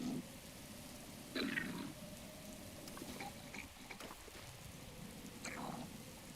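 Steady rain falls in the game Zelda: Breath of the Wild, a continuous soft hiss of droplets with faint brief game effects layered over it and no talking.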